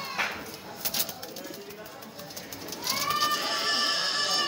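Pigeons cooing and fluttering close by, soft calls and wing flaps amid background chatter, with higher bird whistles joining toward the end.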